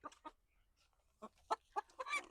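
A tailless native village chicken clucks in short separate bursts, a few quick calls with pauses between, fairly close and otherwise quiet.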